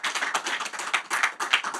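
Audience applause welcoming a guest musician onto a talk show, a short burst of dense, crisp clapping that holds steady throughout.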